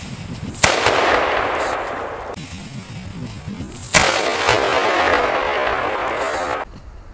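A small firecracker placed inside a raw 1.5 kg chicken bursts with a sharp, loud bang, followed by a noisy hiss; a second similar blast comes a few seconds later.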